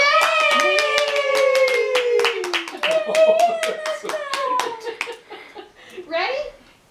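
Hands clap in quick, uneven bursts near the listener while voices cheer and talk over them in a cheerful family setting, the clapping thinning out toward the end.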